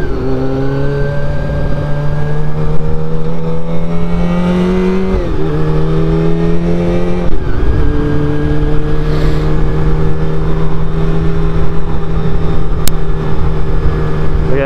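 Motorcycle accelerating on the road, a loud continuous engine drone whose pitch climbs through the gears with shifts around five and seven seconds, then holds at a high steady tone.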